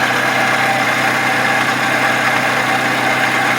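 A 2009-2018 Toyota RAV4 2.5L engine idling with a steady rotating, whirring drone, loud and close, unchanging for a few seconds with no voices.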